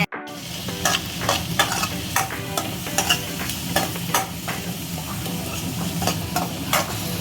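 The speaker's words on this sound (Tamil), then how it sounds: "வெங்காயத்தை போட்டு வதக்குங்க, அவ்வளவா வதங்கிடக்கூடாது." Onions and tomato sauté in a hot pan for masala eggs, a steady close sizzle of frying broken by repeated scraping strokes of a spoon stirring, loud and continuous with no talking.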